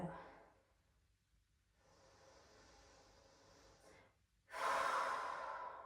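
Slow, deep exhalations during a yoga child's pose: soft breathy rushes, the last one louder and longer, close to the listener in an otherwise quiet room.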